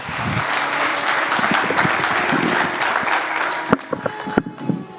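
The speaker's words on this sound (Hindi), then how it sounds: "जोरदार तालियों के साथ" Audience applause welcoming a speaker onto the stage at the Manthan Summit, a dense, steady wash of many hands clapping that runs throughout, with a few sharper, louder claps near the end.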